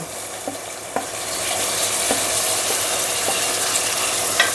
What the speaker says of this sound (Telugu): కట్ చేసి పెట్టుకున్న ఒక 3 టమాటాలు వేసుకోవాలి.